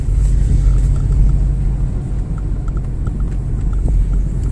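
Porsche 718 Boxster S convertible engine idling with a loud, steady low rumble close by and no talk over it.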